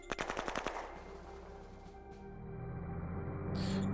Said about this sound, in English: we're definitely taking gunfire